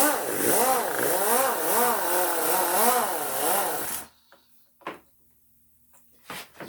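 A powered wire brush scrubs a Tecumseh Peerless mower transaxle held by a bolt, a loud, close, rhythmic whirring grind that surges and dips for about four seconds, then stops, leaving a few faint clicks and knocks.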